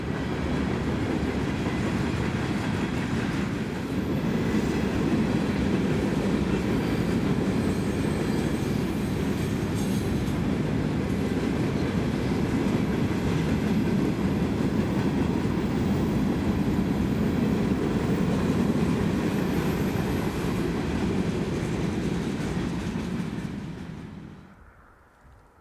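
A CSX freight train rumbles steadily past on the Kingsport Sub in winter, snow on its cars, wheels clacking loudly for over twenty seconds before the sound cuts off.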